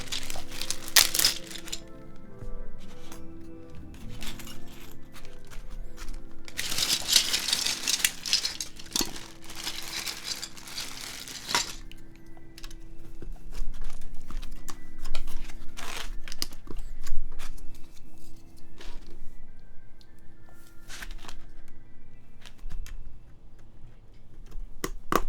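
Mechanical keyboard switches on a Mode Envoy, unlubed, clack and tick in scattered presses, with crinkly handling noise and a busier burst of clicks partway through, close and without talk.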